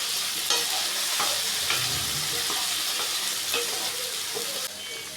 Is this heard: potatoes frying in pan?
yes